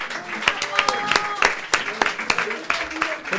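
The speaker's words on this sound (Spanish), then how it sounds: "¡Fuerte aplauso para Roberto Camacho!" An audience breaks into scattered applause for a podcast guest, with sharp claps popping over voices that keep talking throughout.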